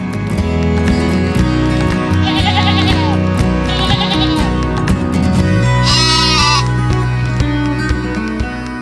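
Sheep bleat repeatedly at close range over a dense, continuous background of livestock noise, with one louder, drawn-out bleat rising near the end.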